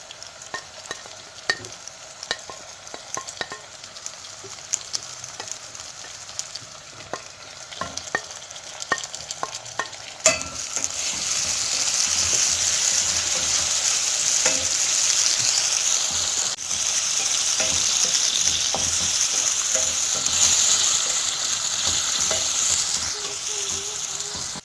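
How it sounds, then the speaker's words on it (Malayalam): Green chillies and spice powders being sautéed in a pan for a Kerala-style fish curry: quick irregular clicks of stirring at first, then a sudden louder, steady sizzle that carries on to the end, with no speech. "ഇതിൻ്റെ അകത്തേക്ക് അരപ്പിനാവശ്യമുള്ള പൊടികൾ വഴറ്റിയെടുക്കാം."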